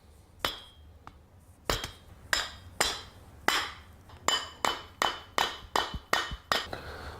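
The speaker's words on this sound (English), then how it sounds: "give it a few taps with the plastic hammer or rubber hammer" A plastic or rubber hammer taps on the clutch holder of a two-stroke engine for a 1/5-scale HPI Baja RC car during teardown. About a dozen sharp, separate knocks come close up, irregular at first and then quicker and more regular.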